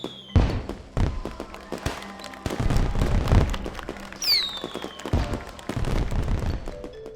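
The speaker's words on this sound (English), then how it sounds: "everyone made their way outside for the fireworks. They all gasped as they watched the colourful explosions" Fireworks burst in a string of sharp, booming explosions with crackling tails. A whistling rocket rises midway, and the bangs repeat irregularly throughout.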